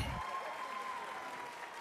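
Applause in a council chamber during a plenary session fades out over a couple of seconds, moderately distant, with a faint tone lingering beneath it.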